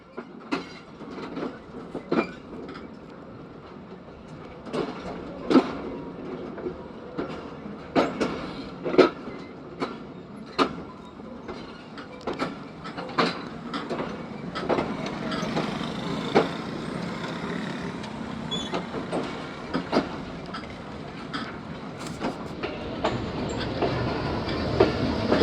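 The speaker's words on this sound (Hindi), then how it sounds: "प्लेटफार्म नंबर 2 पर जाती है ट्रेन।" The Khyber Mail passenger train running on rails, with a continuous rumble and repeated sharp clickety-clack wheel beats over rail joints, steady and fairly close, building slightly louder toward the end.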